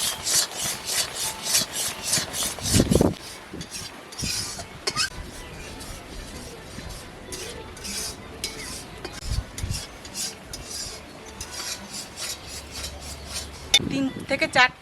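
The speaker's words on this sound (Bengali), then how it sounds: "3 থেকে 4টে এলাচ গুঁড়ো একটু থেতো করে দিচ্ছি, সেন্টটা ভালো হবে।" Cardamom pods being crushed and bruised in a kitchen while making ripe mango aamsotto, heard as repeated scraping, grinding rubs with a few sharper knocks, fairly close, with no talking.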